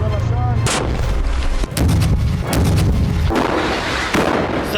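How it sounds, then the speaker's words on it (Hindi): IED explosions set off by the Israeli army in Jenin in the West Bank: loud, heavy blasts boom one after another in quick succession, each with a sharp crack and rolling rumble. "इजराइल की सेना जेनिन में हमास के ठिकानों को आईईडी लगाकर तबाह कर रही है।"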